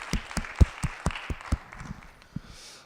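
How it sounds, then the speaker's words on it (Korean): A church congregation gives a short round of thanks applause, heard as a handful of separate, sharp claps spaced irregularly that soon thin out and fade to a quiet room. "우리 받으신 주님께 감사의 박수."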